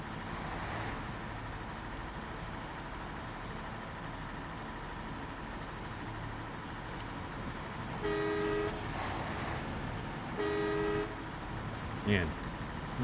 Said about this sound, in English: Man, the horn sounds like a bus.